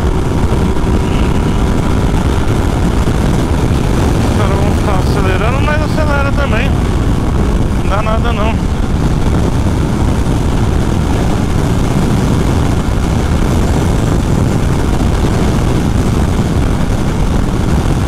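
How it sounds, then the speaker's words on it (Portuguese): Yamaha Tracer 900 GT motorcycle accelerating on a long straight road on a windy day, a loud continuous engine drone heavily buffeted by wind noise, with a brief rising and falling tone partway through. "Acelerando, mas acelera."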